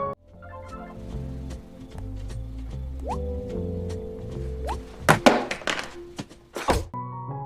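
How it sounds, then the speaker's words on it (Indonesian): A brick smashed into a face makes a sound effect with dull thunks and sharp cracking hits, building to several loud impacts near the end over a low background. "Dean yang marah akhirnya mengambil batu bata itu dan menghantam ke wajah Max."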